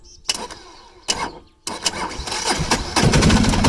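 A Polaris 455 diesel engine cranks in short bursts, stalls briefly, then catches and settles into a loud, rough, steady running note close by.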